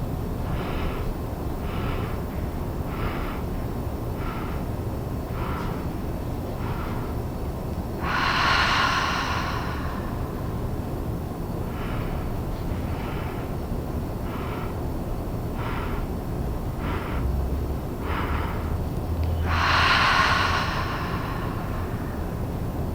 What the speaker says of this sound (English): breathing out one long, slow breath